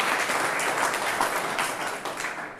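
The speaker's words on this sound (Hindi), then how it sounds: "एक बार अपने स्टाफ मेंबर्स के लिए जोरदार तालियां बजाएं।" An audience claps and applauds energetically, a dense, steady patter of many hands that fades slightly toward the end.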